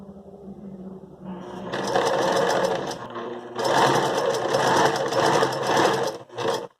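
A sewing machine with a lead presser foot runs in short bursts of rapid stitching, separated by brief pauses where the handwheel is turned by hand, close and loud with no voices.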